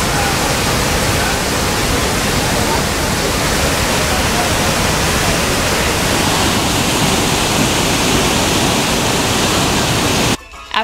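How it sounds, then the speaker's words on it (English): The massive Iguazu Falls at the Devil's Throat, a huge, unbroken roar of crashing water filling everything, loud and close, steady until a brief break at the very end. "There was so much water that we could hardly see the waterfalls"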